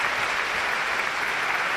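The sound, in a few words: crowd applause at a wrestling venue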